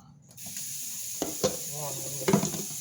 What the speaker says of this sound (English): I'm cooking the ground beef now.